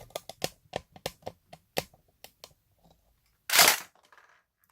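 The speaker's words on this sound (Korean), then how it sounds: "자, 격발 한번 해보도록 하겠습니다." LH9 MKII electric airsoft pistol with a thick plastic body, semi-automatic only, fires one sharp, loud, close shot after a series of light handling clicks.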